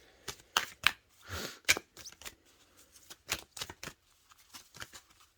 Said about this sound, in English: Let's pull another card.